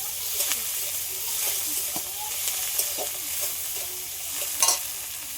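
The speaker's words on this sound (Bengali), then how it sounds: "চার পাঁচটা লঙ্কা চেরি টমেটো কুচি এগুলো সব একসাথে একটু লাল লাল করে ভেজে নিই" Green chillies and chopped cherry tomatoes frying with onion in a pan, a soft steady sizzle with frequent scraping stirs and a sharper clatter near the end, close and unvoiced.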